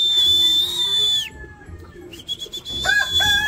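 Pigeon calls ring out over a soft background, with a few thin chirps and bursts of wing flapping as racing pigeons arrive at a loft in the rain, close by and fairly quiet.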